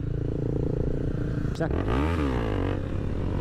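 A motorcycle engine idles, gets a sharp throttle blip and then surges as the clutch is dropped suddenly for a wheelie attempt, with loud rising revs close up.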